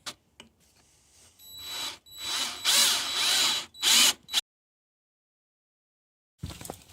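A power drill whines loudly in several bursts as it bores into a brick wall, then stops into silence before a brief final noise.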